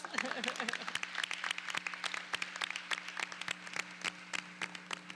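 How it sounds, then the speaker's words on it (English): Scattered applause at a community college commencement, separate claps spaced irregularly over a constant low hum, with a brief voice near the start. "Now we give her a big applause."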